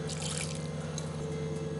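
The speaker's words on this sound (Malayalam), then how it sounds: "ഇനി ഇതിലോട്ട് കുറച്ച് വെള്ളം ഒഴിച്ചു കൊടുക്കണം" Water being poured into a pot of ivy gourd buttermilk curry in a kitchen, a steady close splashing trickle over a constant low hum, with no talking.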